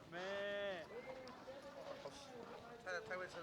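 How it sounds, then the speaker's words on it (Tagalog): Sheep bleat loudly and close by on a Mongolian grassland farm, one long wavering call followed by shorter bleats from the flock, with a person talking over them. "Ang daming mga tupa dito."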